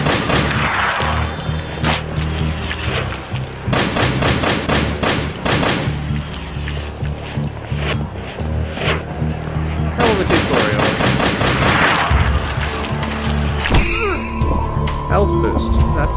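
Rapid gunfire from shooting at sharks in the VR game Sharknado VR: Eye of the Storm, loud dense bursts of shots with booms and thuds continuing throughout, mixed with game sounds.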